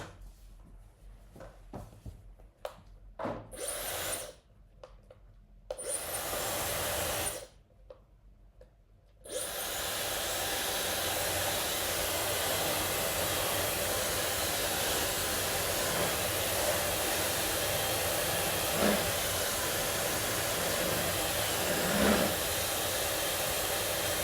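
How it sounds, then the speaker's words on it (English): A hair dryer blows on watercolor paint on paper, starting in short bursts with gaps and then running as a loud, steady rushing whir for the rest of the stretch. "So I'm just going to use a hairdryer."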